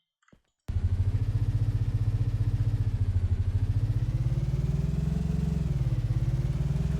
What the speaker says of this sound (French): je vais aller chercher ma moto